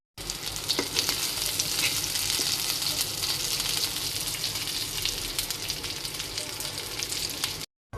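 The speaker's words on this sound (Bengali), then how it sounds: "কিমা করা মাংসটা চুলায় বসিয়ে দিলাম আমরা। এখন মাংসটা ভাজা হতে থাক।" Minced meat frying in a pan on a stovetop, a loud continuous sizzle with occasional stirring, close and steady throughout with no talk.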